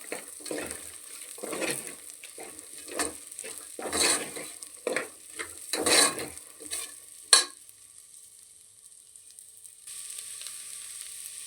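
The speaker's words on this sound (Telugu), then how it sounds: "కొద్ది క్యారెట్ ఒక్క నిమిషం ఇలా వేగనిచ్చి బియ్యం వేసేసుకున్నాం" Carrots, sweet corn and washed basmati rice frying in a pan, stirred with repeated scraping strokes over a sizzle, close up, then the stirring stops and only a low steady hiss remains.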